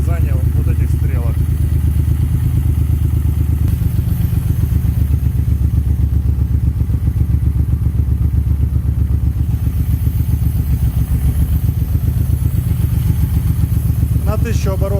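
A Suzuki Boulevard M109R motorcycle engine idles steadily throughout during cylinder synchronization, a loud, close, continuous pulsing rumble with a brief mechanical clatter near the start and end.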